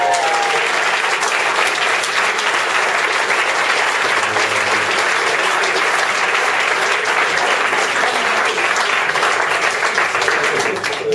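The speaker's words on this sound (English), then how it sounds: "A big round of applause to these guys." A large audience claps in sustained, loud applause for the Seedhack 2013 winners at a startup hackathon event, a steady dense wash of hand claps lasting throughout with no pause.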